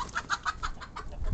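Chicken clucking near a soccer ball, a series of short, evenly spaced clucks close by, moderately loud against light background noise, with no talking.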